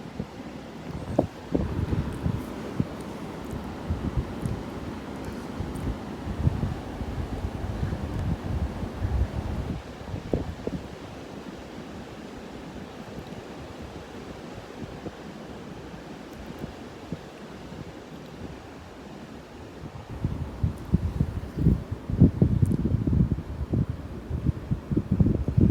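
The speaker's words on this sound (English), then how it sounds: "I'll be quiet and you listen to the wind out here." Strong blizzard wind roars steadily outdoors, buffeting the microphone with rough gusts that swell louder near the end, with no voices over it.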